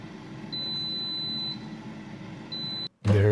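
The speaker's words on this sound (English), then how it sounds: "At about 9 minutes, the air fryer reminds us to shake the fries." A Dreo air fryer sounds its shake-the-fries reminder over a steady appliance hum: two high electronic beeps, the first about a second long and the second shorter, fairly quiet and close, followed by a brief clunk.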